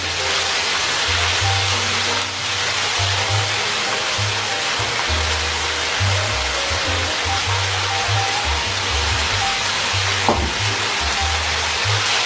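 Par-boiled rice tipped into a very hot pan for prawn fried rice on full flame, giving a steady, close sizzle with a low rumbling bubbling underneath, continuous for the whole stretch with no talking.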